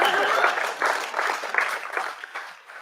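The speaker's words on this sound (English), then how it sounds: "Yeah, clap, go ahead." An audience at a film and TV academy convocation ceremony applauds in a sustained, fairly even round of clapping that tapers off slightly toward the end.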